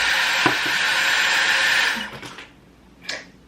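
A Dyson Airwrap hair styler blows a loud, steady rush of air for about two seconds, then cuts off, leaving a quieter tail and a brief sharp noise.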